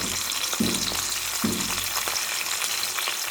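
Sliced onions, green chillies and curry leaves sizzling in about two spoons of hot oil, a steady close crackle with two brief bursts of louder spitting as they hit the pan, no talking.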